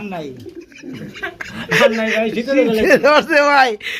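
Pigeons cooing at a busy pigeon market, their throaty calls mixed under loud, close bargaining voices that run through most of the stretch.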